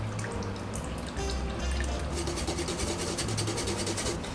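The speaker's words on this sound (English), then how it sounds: "we got a pitcher full of ice. We are going to strain that" Lemonade is strained into a pitcher full of ice, pouring and trickling steadily, a continuous watery splashing with faint clinks of ice, close by.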